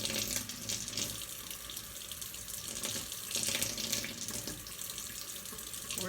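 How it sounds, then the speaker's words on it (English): Tap water runs steadily into a cooking pan at a kitchen sink, a continuous close splashing hiss with slight swells in strength and no talking. "So, pouring water all over the place."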